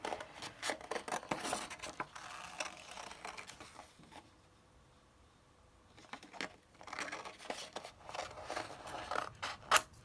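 Scissors cut paper for a snowflake-themed journal page, a close series of crisp snips and paper rustles that pause midway and then resume, with no talk.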